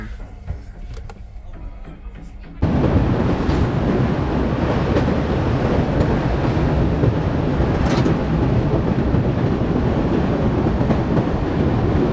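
The Varanasi–Jammu Tawi train at Pathankot station: after a quieter start, a loud, steady rail rumble cuts in abruptly and holds close and constant to the end.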